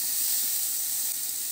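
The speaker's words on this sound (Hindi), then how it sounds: "मसालों को हम 1 से 2 मिनट के लिए लो फ्लेम पर भून लेंगे।" Spices roasting in a pan on a low flame for kala chana masala, a steady, close, bright hissing sizzle with no talking.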